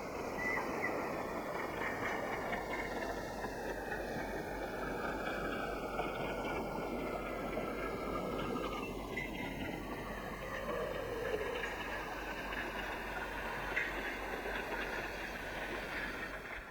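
A steady, continuous rumble of a logging train locomotive rolling along in Romania, with a low mechanical drone and rhythmic track noise throughout, no voices.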